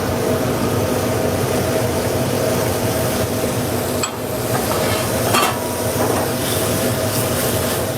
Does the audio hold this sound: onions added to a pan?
yes